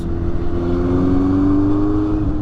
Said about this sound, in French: Si j'accélère, ouais, c'est pas violent, mais ça prend tout doucement et la sonorité n'est pas dérangeante